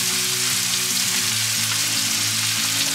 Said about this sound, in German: Jo, weiter brutzeln.